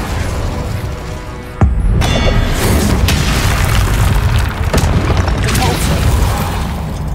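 The Incendio fire spell in Hogwarts Legacy, a video game: a loud, dense roar of flame and rumbling impacts with a sharp burst partway through, filling the whole stretch.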